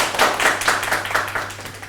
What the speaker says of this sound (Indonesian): Tepuk tangan lagi terakhir